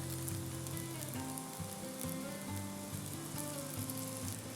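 Egg omelet sizzling on a cooked paratha in a hot pan, a steady crackling fry with light popping and occasional scraping stirs, close and continuous with no voices.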